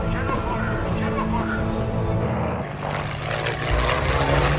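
Aircraft engines drone loudly from a World War II film about the Battle of Midway, a dense, continuous roar that swells toward the end.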